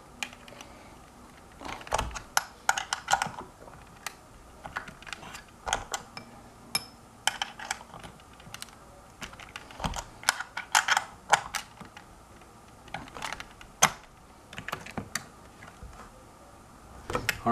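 Parts of a smart balance wheel scooter being tightened by hand tools, giving repeated small metallic clicks and ratchet-like ticks in irregular bursts, close and moderately loud, with no talking.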